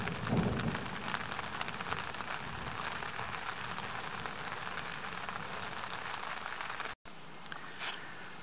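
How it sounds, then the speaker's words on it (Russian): Steady rain pours in the Karelian wilderness, a dense continuous hiss with deep thunder rumbling underneath, broken by a brief gap near the end. "Я думал, на севере гроз не бывает, но громыхает так прилично."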